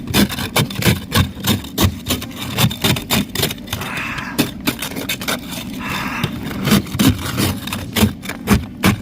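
A tool scrapes half-melted ice off outdoor stairs in loud, close, rhythmic strokes, each one a harsh grinding rasp that repeats steadily throughout.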